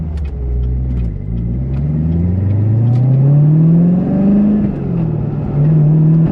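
Chevrolet Corvette Z06 sports car accelerating on the road, a loud close engine note climbing steadily in pitch with a brief shift, then settling into a rumbling cruise.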